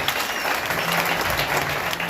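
Congregation applauding to praise God at a church gathering, dense steady clapping from many hands filling the room, loud and continuous throughout with no pauses.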